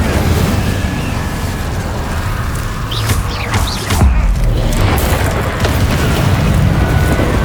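A fire spell cast in Hogwarts Legacy, loud whooshing flame bursts over a dense, booming game soundscape with no voices.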